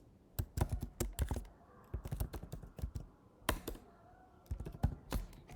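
Keys clatter on a computer keyboard in quick, irregular bursts of close, crisp clicks, with short pauses between the runs of typing and no talking.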